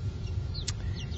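Three-week-old chicks in a chicken tractor give brief, faint peeping chirps over a low, steady outdoor rumble.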